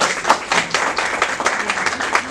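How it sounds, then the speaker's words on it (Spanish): A seminar audience at a qualitative research workshop gives a short burst of applause to welcome a teacher, a brief, fairly close patter of clapping from a modest group. "Gracias, maestra Raquel, un aplauso."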